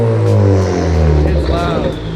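A car engine breathing through a newly installed catless downpipe with a turbo, close and loud, holding a deep steady drone with a slight rise in revs.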